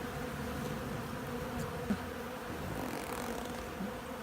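Honey bees buzzing at a hive on a city farm in a windy city, a dense, steady drone of many insects close by that never lets up, with no talking.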